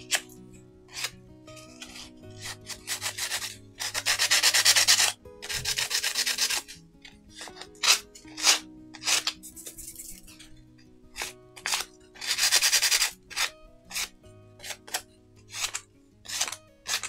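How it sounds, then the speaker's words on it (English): Rhythmic abrasive rubbing of sandpaper against a bottle being distressed for an industrial-themed craft, close and fairly loud, with longer sustained strokes between short scratchy passes and small handling knocks. "let's just do some sanding on it"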